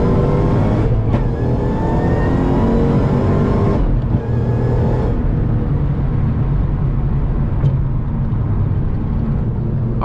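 An 800 HP Shelby powers hard through the gears with no-lift shifts, a loud, close, continuous engine roar broken by brief dips at each gear change.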